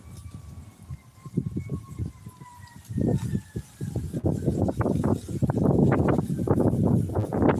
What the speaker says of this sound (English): Can y'all hear those sirens?